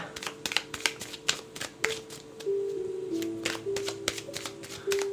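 Tarot cards are shuffled in a steady series of crisp riffling clicks with soft slides, close and clear, while a faint tone hums underneath.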